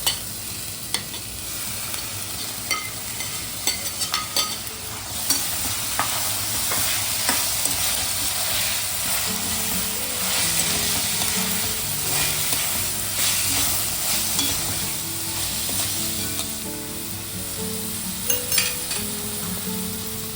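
Onion, capsicum and tomato frying and being stirred in a pan, a steady close sizzle with intermittent scraping stirs throughout, no voices.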